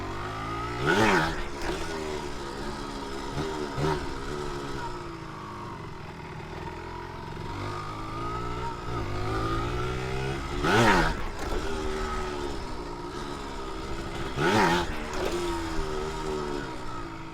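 A Timsun motorcycle engine, started after a long idle period, revs up and down several times to warm up, its pitch climbing and falling in repeated surges over a steady idle.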